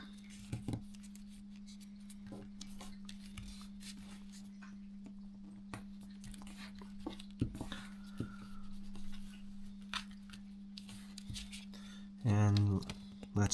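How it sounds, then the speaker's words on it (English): US letter paper being folded into a paper plane: soft, intermittent creasing and rustling close by, faint under a steady hum, with a louder crinkle near the end and someone talking. "And now fold it up and make sure that these creases are lined up"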